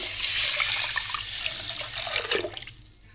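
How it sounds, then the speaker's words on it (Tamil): About four and a half tumblers of water are poured into a pot of rice and lentils for temple-style ven pongal, a close, steady splashing pour that tapers off near the end. "இப்போ நம்ம இதுக்கு நாலரை டம்ளர் தண்ணி ஊற்றிக்கலாம்"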